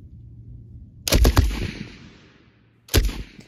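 A Vickers machine gun fires on a range, with two loud, sharp bursts of rapid shots separated by a pause, each trailing off into echo.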